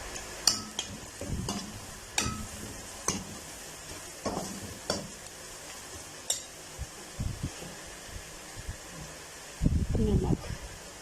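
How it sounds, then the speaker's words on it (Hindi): Spices such as turmeric powder and salt being stirred and roasted in a pan for eggplant bharta: soft sizzling under repeated scraping strokes of a spoon, with a louder burst of frying near the end. "मसालों को हम 30 सेकंड के लिए जो है भून लेंगे।"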